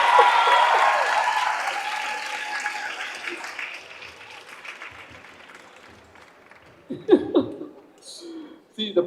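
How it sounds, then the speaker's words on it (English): An audience at a wellness session in Chennai breaks into applause, dense clapping loud at first and gradually thinning out, followed by scattered talk and chuckles. "let's give a big round of applause."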